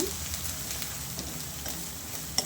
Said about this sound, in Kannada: ಅದನ್ನು ಇವಾಗ ಚೆನ್ನಾಗಿ ಸ್ವಲ್ಪ ಫ್ರೈ ಮಾಡ್ಕೊಳ್ಳೋಣ